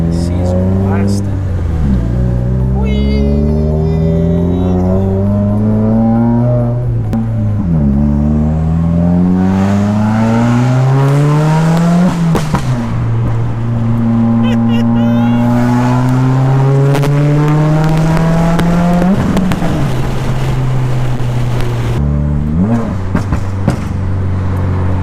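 A car engine runs continuously after a P0172 rich-fuel fault repair, revving and dropping in repeated sweeps with a loud, close exhaust note while someone talks over it.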